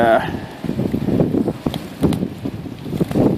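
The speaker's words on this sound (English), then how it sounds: "windy day here on the bay" Strong wind on a bay buffets the microphone with low, rumbling gusts that rise and fall throughout.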